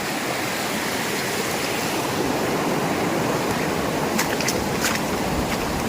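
Floodwater from a swollen village river rushes over the Hurva–Moruka road in heavy rain, a dense, steady roar of churning water close by and loud throughout, with occasional brief splashes.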